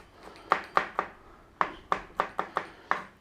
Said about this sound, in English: Now you can mince and mince and mince as much as you want